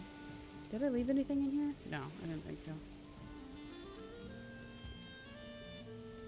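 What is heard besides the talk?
storm rain in the video game Valheim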